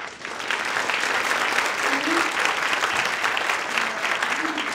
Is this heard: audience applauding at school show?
yes